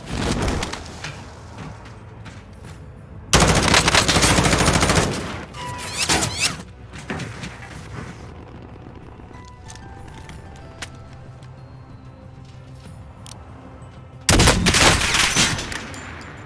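Bursts of automatic gunfire from the Warzone video game, two long loud volleys plus a shorter burst, with scattered quieter shots and game ambience between them.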